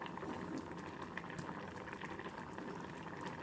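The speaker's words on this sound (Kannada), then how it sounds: "ಸೊಪ್ಪು ಚೆನ್ನಾಗಿ ಕುದೀತಾ ಇದೆ." Greens bubbling in a pot of sambar, a soft continuous simmering boil with faint popping, fairly quiet and close, no voices.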